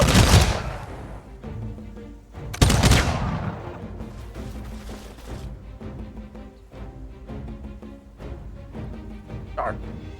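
Gunfire from the strategy video game Humankind, with a loud burst at the start and another sharp volley a few seconds later, followed by quieter scattered battle effects and game sounds, with a voice talking over them.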